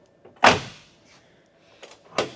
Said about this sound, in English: this door's shut